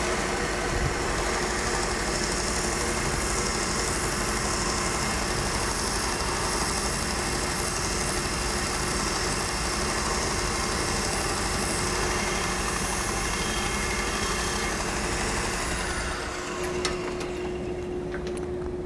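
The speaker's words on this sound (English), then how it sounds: "I'm going to remove this scratch using a Trizact belt. This is 1200 grit, and it's going to remove these scratches" A Trizact 1200 grit abrasive belt grinding scratches off a silversmith hammer, a loud continuous whirring hum that stays steady for most of the stretch, then winds down near the end.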